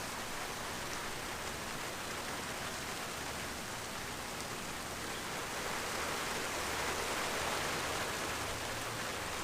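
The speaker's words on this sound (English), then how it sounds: "Here comes the rain." Steady rain falls outdoors beside a garage, a dense, even hiss of drops that holds for the whole stretch with no breaks. No voices are heard.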